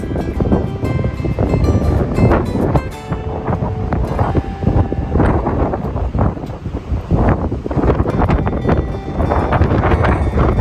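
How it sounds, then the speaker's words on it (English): Strong wind blasts across an open farm yard near a stable, a loud, constant roaring rush against the microphone with no break, heard alone without talk. "check this wind out. It is ridiculous."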